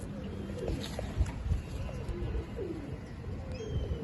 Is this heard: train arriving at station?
no